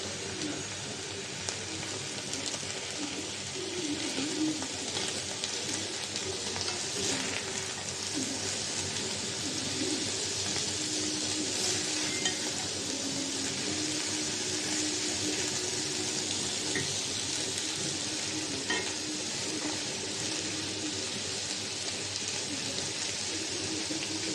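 Small fish with potato frying in a pan, a steady broadband sizzle and crackle continuing throughout at a moderate level, with no talking.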